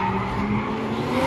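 A Nissan Z50Z car skidding during a motor show driving display, a continuous loud tire squeal and engine roar held steady throughout, close and unbroken.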